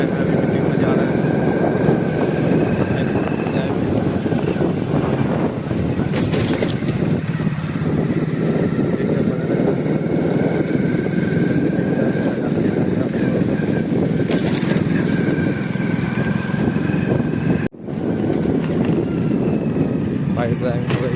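A motorcycle is ridden on the way to a meeting in India, with a steady engine drone and wind rumble running continuously throughout. A brief dropout comes near the end.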